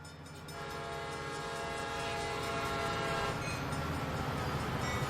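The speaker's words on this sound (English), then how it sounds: "like a civilian watching the freight train come through" Freight train passing a road crossing in Train Sim World 2020, a steady loud rumble of rolling wagons with a sustained horn blast over it, building slightly and continuing throughout.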